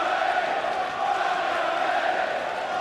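Darts crowd at the 2017 Champions League of Darts semi-final roars continuously, a dense loud wash of cheering and chanting voices filling the arena without a break.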